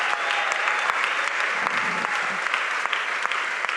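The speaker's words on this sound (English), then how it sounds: "I want to give her a round of applause." Audience at a live author conversation event applauding, a sustained dense burst of clapping at close-to-moderate loudness that fills the whole moment without voices.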